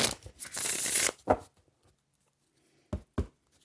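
Two bursts of tarot cards being shuffled up close, followed by a quiet pause and a couple of soft taps of cards.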